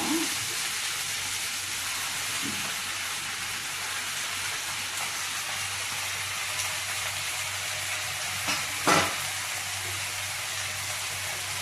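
Spinach tossed into a hot pan for a curry gives a steady, even sizzle throughout, with a couple of brief clatters near the end and no talking.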